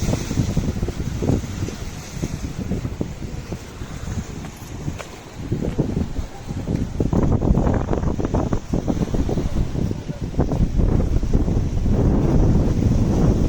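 A steady, roaring wash of rough water fills the whole stretch, with gusting wind buffeting the microphone and surging louder toward the end, as a storm approaches with lightning in the eastern sky.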